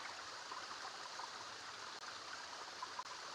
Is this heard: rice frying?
no